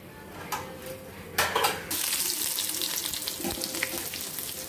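Mustard seeds and urad dal hitting hot oil for a coconut chutney tempering: a few light clinks, then a sudden close, steady crackling sizzle that carries on to the end.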